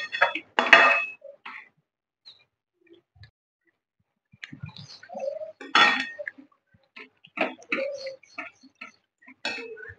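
A spoon or spatula stirs kharvas barfi, a colostrum sweet mixture, in a pan over low gas, making sparse metallic clinks and scrapes in short bursts separated by quiet stretches.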